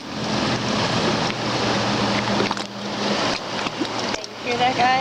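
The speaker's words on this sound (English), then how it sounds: "You can actually hear it down here sloshing against the rocks." Fast flooded New River water rushes past and sloshes against rocks in West Virginia, a loud continuous broadband roar with surging swells, while a person talks over it near the end.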